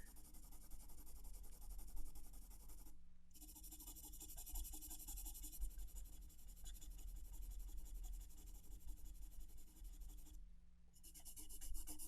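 Charcoal pencil shades across paper in long continuous scratchy strokes, close and steady, with two short pauses between passes over a constant low electrical hum.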